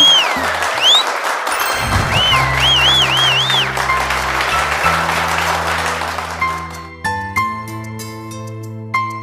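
Crowd applause at the Khanti Odia Jhia Episode 13 audition in Bhubaneswar, greeting the first contestant onto the stage. The clapping runs steadily beneath loud stage music and fades as the music takes over.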